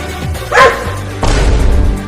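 A cartoon dog barks twice in quick succession, loud and close, with a low hum of background music underneath.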